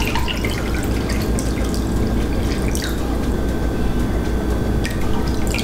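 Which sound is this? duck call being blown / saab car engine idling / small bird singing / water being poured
water being poured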